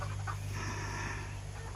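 Soft chicken clucking nearby, a short burst of clucks at the start over a constant low hum.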